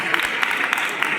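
A crowd of sanitation workers bursts into a short round of hearty clapping to welcome the committee's vice chairman, a dense continuous patter of many hands with a few sharper individual claps standing out.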